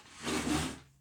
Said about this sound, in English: I pulled my charm box forward.